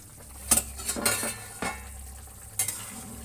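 A lid is lifted off a cooking pot of simmering rohu fish curry, with a few sharp metallic clanks and clatters spaced across a quiet kitchen background.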